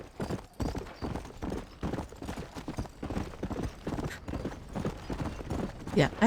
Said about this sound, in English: Some wild horses.